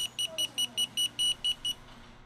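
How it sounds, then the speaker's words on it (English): A testo 745 non-contact voltage tester in high sensitivity mode sounds its audible alarm: a rapid series of about nine short, evenly spaced, high-pitched electronic beeps, close and clear. "High sensitivity mode has its own unique audible alarm."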